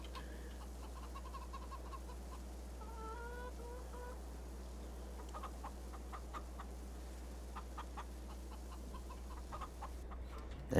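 Chickens clucking in a ranch video game, scattered short clucks and soft calls repeating at irregular intervals, faint under a constant low background hum, no voices.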